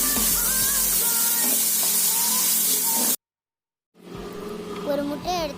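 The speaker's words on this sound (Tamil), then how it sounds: "நல்லா வாழைப்பூ வேகிற அளவுக்கு ஃப்ரை பண்ணிக்கோங்க" Chopped banana flower frying with pepper in an oil-filled pan, a steady hiss and sizzle with stirring. It cuts out briefly, then resumes, with a voice talking over it.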